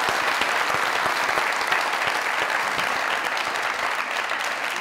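Loud applause from a television studio audience on a comedy talk show, a thick, continuous roar of clapping that stays strong from start to finish.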